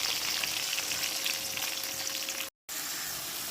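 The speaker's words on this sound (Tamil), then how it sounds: "அப்புறம் கொஞ்சம் தக்காளி வெங்காயம் எல்லாத்தையும் போட்டு கொஞ்சம் உப்பும் போட்டு கொஞ்சம் வதக்கிக்கலாம்." Tomatoes, onions and salt sautéing in oil in a pan, a dense continuous sizzle heard up close, briefly cut off before resuming just as loud.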